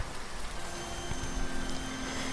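Steady rain falls in an audio drama, a dense, even hiss of drops across the whole stretch with no voices over it.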